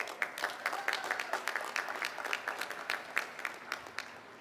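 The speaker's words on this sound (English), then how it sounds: "Please give the students, the family, and the faculty a big round of applause." A graduation ceremony audience applauds steadily, a dense patter of many hands clapping at moderate distance, fairly quiet overall and without talk.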